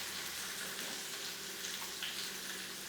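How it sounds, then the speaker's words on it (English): Steady crackling sizzle of chicken thighs frying in a hot skillet, continuous and fairly close, with no talking. "you should hear the chicken sizzle right away"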